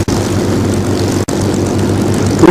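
WWII propeller aircraft of the Battle of Britain Memorial Flight, a Spitfire, a Hurricane and a Lancaster, fly past with a loud, steady, droning roar of piston engines, unbroken but for one brief dropout.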